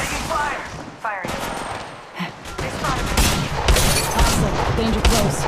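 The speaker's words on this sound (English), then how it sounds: "Taking fire. Firing." Rapid gunfire bursts from the Apex Legends Mobile battle royale game, loud and dense with overlapping shots and booms, mixed with character voice callouts throughout.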